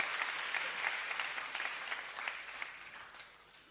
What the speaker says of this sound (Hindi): उनको जोरदार तालियां बजा करके उनकी सेवाओं का अभिनंदन करना चाहिए।